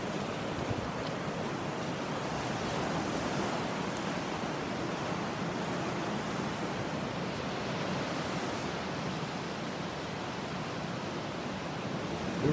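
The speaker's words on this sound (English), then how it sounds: "The rhythm of the waves, huh?" Ocean waves wash steadily beneath a California pier, making a continuous broad surf roar with some wind, with no voices.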